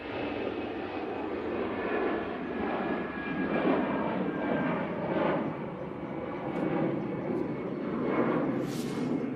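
Lufthansa airliner in Star Alliance livery departing Manchester Airport, its engines a steady, broad roar that swells slightly and holds throughout at moderate distance, with no talk.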